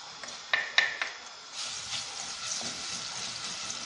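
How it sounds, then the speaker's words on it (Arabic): Crushed garlic drops into hot oil in a pot, a few clinks of a utensil, then a steady bright sizzle of frying that carries on at close range, with no talk. "في طنجره درت الزيت يسخن، نزيد معاه الثوم مسكرفج"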